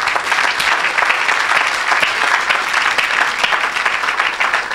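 A church congregation bursts into sustained, dense applause filling the room, loud and even from start to finish, with no voices standing out above the clapping.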